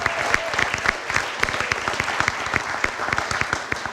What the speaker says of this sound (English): A big round of applause for Perryville soccer player Allison Moldenhauer.